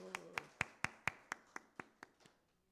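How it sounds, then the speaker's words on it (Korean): Clapping during a church service sounds as about ten crisp, evenly spaced claps in a steady beat, quiet and fading slightly toward the end. "박수."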